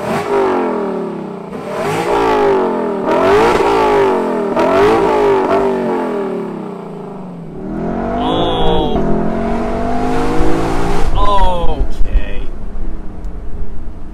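The V8 engine of a 2021 Lexus LC500 Convertible revs hard several times, each roar climbing and falling loudly up close, ending with a couple of quick sharp throttle blips.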